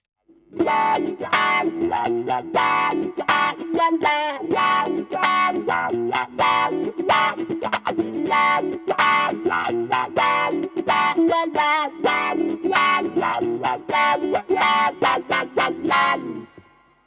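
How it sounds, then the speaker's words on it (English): Funky electric guitar rhythm through a Dunlop Crybaby Classic wah pedal, Stratocaster middle pickup, with a swept wah tone, choppy strummed chords in a steady groove, loud and continuous throughout. "And now some funky rhythm playing using the middle pickup on my Strat."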